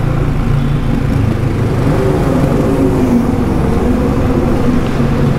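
Continuous droning exhaust of a Cafe400 motorcycle with a steady low throb and drifting pitch, heard up close while riding on an expressway, with no talk over it.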